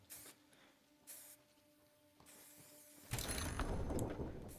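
A hissing spray-paint can in a video game bursts on loudly and sustains for over a second, preceded by a few short, fainter hissy puffs.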